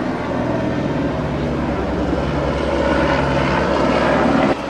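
A military aircraft passes overhead near the Angkor temples, a loud, steady engine drone with propeller-like throb that fills the whole stretch without letup.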